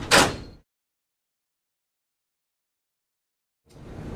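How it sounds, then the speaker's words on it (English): Door panel of a RISO RZ220 printer swung shut, a single short thud-like clunk at the start followed by silence, then another faint rustle of handling near the end. "and close the door."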